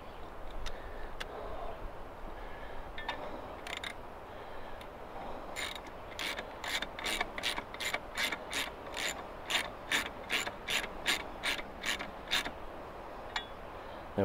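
Ratchet wrench tightening a nut in the engine bay of a GMC Denali with the L5P Duramax diesel: a steady series of close, sharp clicking strokes, quiet at first and then regular and distinct, with no talking.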